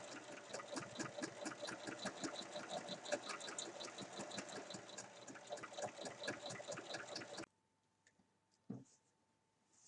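A domestic sewing machine topstitches around the edge of a fabric tote bag in a fast, steady stream of rhythmic needle clatter, close and clear, then stops abruptly, followed by a faint hum and a single soft knock.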